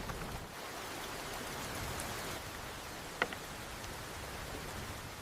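Monsoon rain falls steadily in a village, a dense, even hiss of drops on surfaces with a single sharp tap near the end and no talking.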